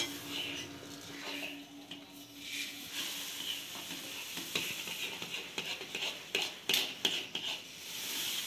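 Puffed rice (khoi) being stirred together with melted jaggery, a dry rustling and scraping of the mixing that rises and falls in short bursts, close by and fairly quiet.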